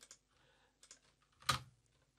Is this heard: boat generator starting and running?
no